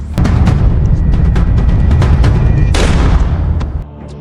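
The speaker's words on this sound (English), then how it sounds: "Just as Victor was about to go inside, a gunshot was heard." Gunfire in a tense film scene: a burst of sharp, loud cracks and booms in rapid succession over a heavy low rumble, ending in a final louder blast before cutting off.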